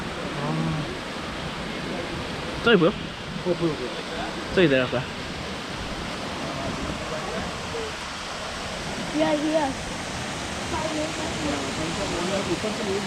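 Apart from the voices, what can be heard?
small waterfall at Wentworth Falls, Blue Mountains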